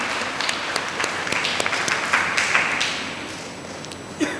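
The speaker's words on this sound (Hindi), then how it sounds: "आइए हम ताली बजाकर उन्हें धन्यवाद दें" An audience applauds a children's choir, a dense patter of many hands clapping steadily for several seconds before thinning out toward the end.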